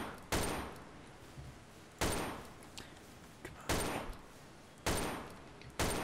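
Gunfire in Garry's Mod during a base attack comes as sharp, loud bursts of shots at irregular intervals, about five of them, each fading quickly.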